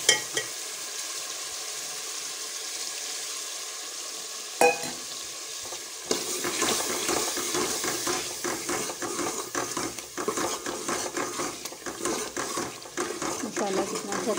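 Chopped tomatoes and onion masala fry in a pan. The stirring starts quietly, then turns into a loud, busy sizzle with steady scraping and utensil clatter that runs on to the end, with no talking.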